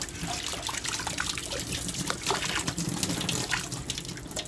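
Scallops being rinsed under running tap water at a sink, the flow steady and broadband with small splashy spikes throughout, close and continuous with no talking.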